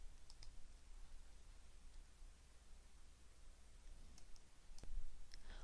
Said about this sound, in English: so I am just clicking Next.